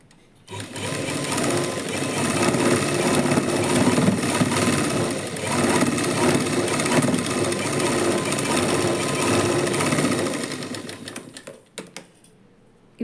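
A sewing machine stitches a lining blouse in one long, loud, steady run that stops near the end, followed by a few short bursts.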